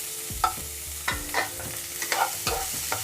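Chopped onion frying in hot oil for a mushroom gravy, its soft sizzle broken by about half a dozen quick scraping stirs of a spatula against the pan, close and with no talk.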